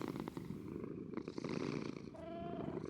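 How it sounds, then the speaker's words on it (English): Friendly creatures in a video game purr continuously and softly, a low rumbling purr heard close with a faint higher tone near the end. "listen to the purrs"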